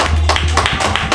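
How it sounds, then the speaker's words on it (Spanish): Guests at four-year-old Adriel's birthday party clap for him in a short burst of close, rhythmic applause with voices mixed in. "Un aplauso para el cumpleañero, todos."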